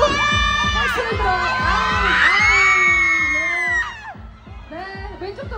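Fans crowd a photo wall at a VIP film premiere, clapping in a steady rapid rhythm with cheers and high shouts layered over it. The sound is loud and close, then thins near the end.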